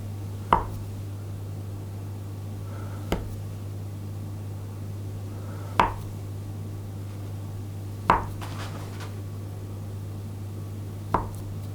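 A knife cuts food into slices about 3/8 inch thick, a few sharp, widely spaced knocks of the blade on a board every two to three seconds over a constant low hum.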